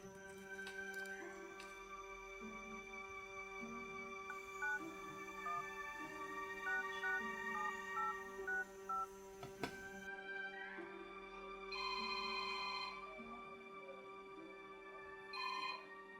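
A telephone ringtone plays as a call is placed, a melodic electronic ring that repeats in bursts with short pauses between them, fairly clear and heard alone.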